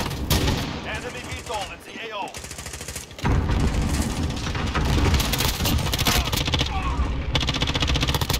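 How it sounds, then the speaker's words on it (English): Rapid automatic M4 rifle fire in Call of Duty Modern Warfare, dense crackling bursts that run almost continuously and grow louder in the second half, with voices talking alongside. "Why does his M4 sound like that?"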